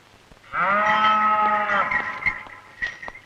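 A bull in a Tamil film scene lets out a single long, loud moo lasting over a second, followed by faint background rustling and knocks.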